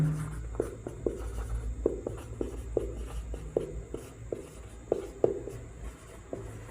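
Marker or chalk strokes on a classroom board during a physics lesson, a steady run of short scratchy taps and squeaks at an uneven rhythm, close and moderately loud over faint room hum.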